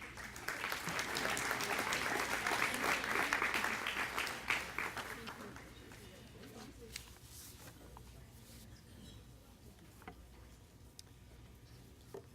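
Applause at a Sioux Falls School District recognition banquet, a broad wash of clapping from the hall that swells for about four seconds, then thins into scattered claps and quiet room noise.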